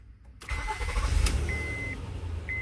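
A Honda Odyssey van with a bad ignition switch cranks and fires up, then settles into a steady idle with a low rumble, close and fairly loud, a faint whine sounding on and off.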